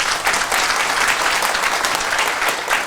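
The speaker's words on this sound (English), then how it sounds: "Could we give them a round of applause?" Sustained applause from a large conference audience at an international peace gathering, steady and dense clapping filling the space with no talk over it.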